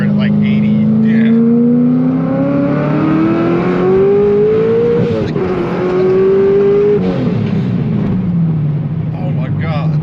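Supercharged 1000HP C6 Corvette Z06 accelerating hard under boost, a loud, rising engine howl with supercharger whine climbing in pitch, a brief shift, then pulling again, heard from inside the car.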